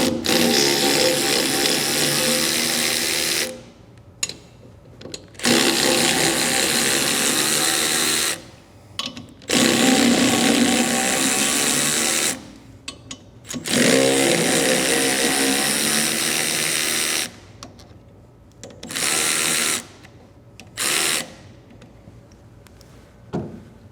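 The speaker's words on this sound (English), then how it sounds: "we can use our 3/8 ratchet" A 3/8 ratchet backs out the four bolts on a boat outdrive's weedless adapter, with loud bursts of rapid ratcheting clicks separated by short pauses, close up and with no talking.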